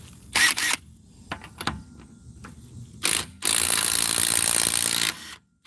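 A Bauer 20V Hypermax 3/8-inch compact cordless impact wrench removes car lug nuts with short close rattling bursts, then a longer loud hammering run of about two seconds, with quieter clicks and handling noises between.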